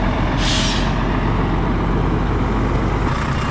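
An old truck engine runs steadily after a jump start, a loud, continuous low rumble with a brief hissing burst of air near the start, like an air brake releasing.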